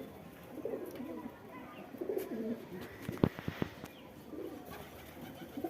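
Pet white pigeons kept at home coo in several soft, low bursts, close by, with some faint fluttering and chirps between calls.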